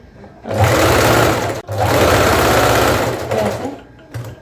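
A sewing machine runs in two long, steady bursts, stitching cross strips of cloth to attach a lining, with a brief pause between them and a short final run; loud and close with no talk.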